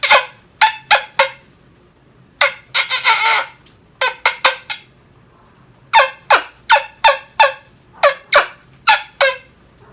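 A homemade turkey wing bone call is played in repeated sharp, yelping clucks, loud and close, given in quick bursts of three to five with short pauses between them.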